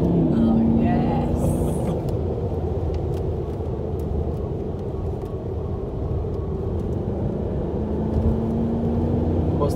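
A Porsche circles Highlands racetrack with a steady, loud engine drone heard from inside the car, sustained throughout with a faint rising tone, and no clear speech.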